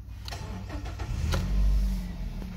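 A manual Nissan Qashqai with 127,000 miles cranks briefly and catches, its engine firing up into a steady idle close by with no one speaking.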